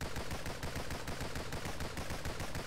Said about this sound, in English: How come you've just got the submachine gun on?